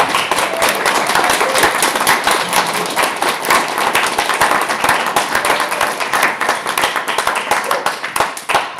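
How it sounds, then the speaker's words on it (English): Sustained audience applause and clapping for a student union president candidate at election hustings, dense and steady throughout, tapering slightly near the end. "Can we please give our president candidate a massive round of applause?"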